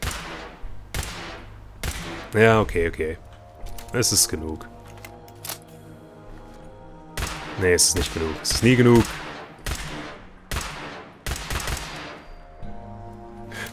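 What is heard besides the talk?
gunfire from Fallout 4 video game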